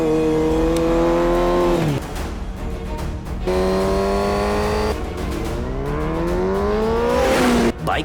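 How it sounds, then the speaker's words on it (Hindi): A Yamaha R1 sport motorbike passes close by on a city road, its engine note rising, then dropping with a Doppler sweep, and revving again loudly in repeated surges with no talk. "यमाहा R1 बाइक हेलमेट के साथ क्रॉस कर रहा है"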